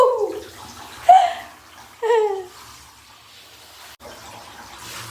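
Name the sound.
water running while showering a puppy in the bath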